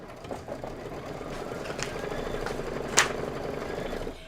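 An embroidery machine stitches a flower placement line, a quiet, steady mechanical whirr with faint rapid stitching pulses and a brief clack near the end.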